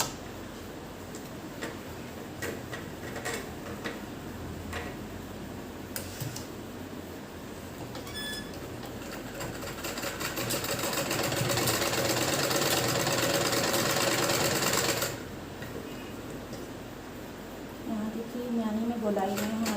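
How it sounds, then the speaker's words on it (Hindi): A sewing machine runs flat-felled stitching on fabric for a tailored undergarment, its fast rhythmic ticking whir running under intermittent talk and growing louder for a stretch before stopping. "इस हिस्से में भी हमें चपटी सिलाई लगानी होगी।"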